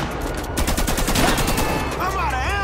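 Rapid gunfire in Grand Theft Auto 5, a fast broadband crackle of shots sustained through the clip at close range, with voices talking over it.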